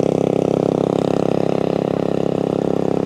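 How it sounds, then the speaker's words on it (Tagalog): Tractor engine running steadily at a roadside farm field, a loud low chugging drone with a rapid regular pulse, holding even throughout with no voices. "Ayun, malis na yung traktora."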